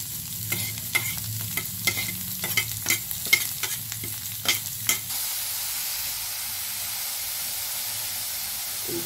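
Onion, chana dal and green chili frying in a pan for paniyaram: sharp spatula scrapes and clicks for about five seconds, then a steady, even sizzle carries on alone.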